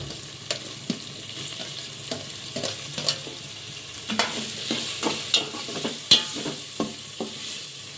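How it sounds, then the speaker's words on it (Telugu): Ginger paste and tomatoes frying in a pan for Rayalaseema uggani, a steady sizzle close up with frequent scraping stirs and sharp spatula taps against the pan, no voices over it. "కొద్దిగా ఇది పచ్చివాసన పోయిన దాకా వేయించుకోవాలి"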